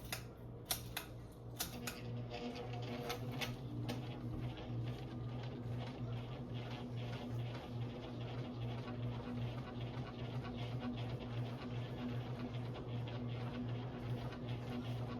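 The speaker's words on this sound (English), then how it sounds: "we're gonna go ahead and crank this fan to high and see what she does" An Emerson CF2052-2 designer ceiling fan running on high, a steady low motor hum with faint ticking and clicking at the start, quiet and continuous.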